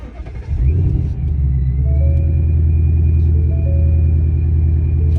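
An ESS supercharged Mustang engine with a valved exhaust in quiet mode cranks and catches, then settles into a loud, deep, burbling idle with a faint supercharger whine riding above it, very close.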